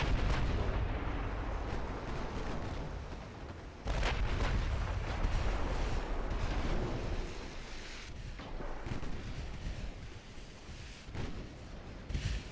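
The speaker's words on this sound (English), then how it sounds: "Get the secondaries firing at the heavy cruiser." Naval gunfire from warship guns in Ultimate Admiral Dreadnoughts rumbles continuously, with heavy booming salvos sharpening near the four- and twelve-second marks over a dense, roaring low-end wash.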